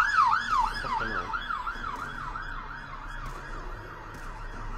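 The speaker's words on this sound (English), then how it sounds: "That was the loudest fucking siren I think I've ever heard." Loud wailing siren in the shooter Call of Duty: Black Ops 2, a rapid up-and-down warble sweeping continuously, fairly close and alone apart from faint background game noise.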